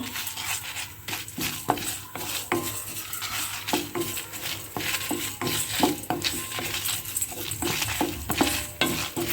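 Lentils, dried red chillies, coriander seeds, fenugreek and curry leaves frying in a pan for Dharmasthala-style temple sambar, with repeated sharp scraping and clinking of a metal spoon stirring over a faint sizzle, close and without talk.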